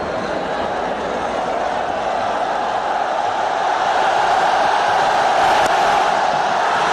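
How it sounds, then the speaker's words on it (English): Large cricket stadium crowd roaring and cheering through a final between India and Pakistan as a batsman reaches his century, a dense, steady wall of noise that swells slightly louder toward the end. "The crowd are really enjoying this onslaught from both these batsmen"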